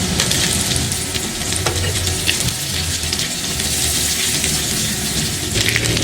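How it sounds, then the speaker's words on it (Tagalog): Chopped garlic and onion frying in hot oil for a vegetable spring roll filling: a loud, steady, dense sizzle with occasional stirring scrapes, close up and continuous throughout, with no talking. "So maglagay muna tayo ng mantika. Tapos ilagay na natin ang bawang. sibuyas."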